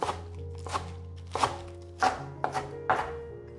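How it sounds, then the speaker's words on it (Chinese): A kitchen knife slices washed lettuce into thin strips on a cutting board, six or so crisp, distinct chops at an uneven pace, close and clear with no talking. "生菜洗干净了，现在切成细条状。"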